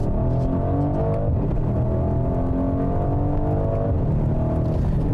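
A 2020 Mercedes-AMG GLC 63 AWD's engine drones steadily from inside the cabin while driving, a continuous loud rumble with rising and falling harmonic pitch as the revs shift, with no talking.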